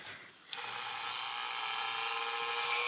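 A handheld Dremel rotary tool clicks on after a short quiet moment and settles into a steady high-pitched whine that holds at a constant speed, close and fairly loud, with no talking.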